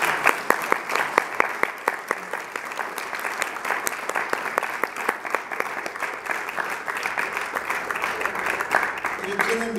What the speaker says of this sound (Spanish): vamos a dar un aplauso a Dios de ese.